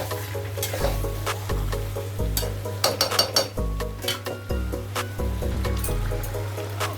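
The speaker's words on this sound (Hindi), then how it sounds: "अच्छे से हमें चिकन को पकाना है।" Chicken for Kolkata-style biryani cooks in a pan. Close, repeated stirring and scraping strokes sound over a bubbling, liquid simmer, with a low steady hum of the burner underneath.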